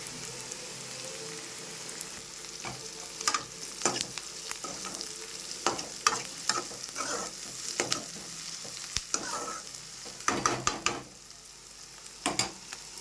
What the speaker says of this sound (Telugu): ఫస్ట్ అయితే కళాయి పెట్టేసుకొని అందులో ఆయిల్ ఆనియన్స్ అలానే పచ్చిమిర్చి కరివేపాకు అనేవి వేసుకున్నానండి ఇప్పుడు వీటిని మంచిగా వేయించుకుంటున్నాను